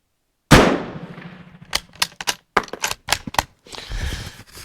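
A single loud, sharp rifle shot from a Spanish Mauser model 1893, close by, ringing out with a decaying tail, followed by a rapid series of metallic clicks and clatter from working the bolt.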